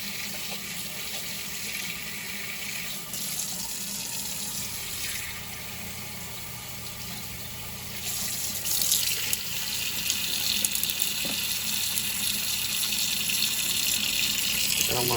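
Cold water from a tap runs steadily into a sink for washing a baseball cap, a continuous broadband splashing hiss that grows louder and fuller partway through, with no talking.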